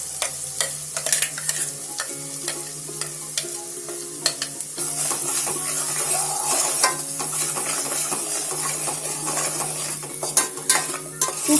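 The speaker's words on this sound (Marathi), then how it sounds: "खूप छान असा मस्त लाल तेल सुटेपर्यंत हा मसाला भाजून घ्यायचा, आपला चांगला परतून घ्यायचा." Ground masala paste roasts in oil with red chilli powder for Satari misal, giving a continuous frying sizzle broken by frequent clinks and scrapes of a spoon against the pan.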